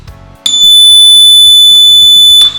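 A toy buzzer in a junior tinker kit circuit, wired to a rocker switch, sounds one loud continuous shrill electronic tone for about two seconds, preceded by faint low background noise.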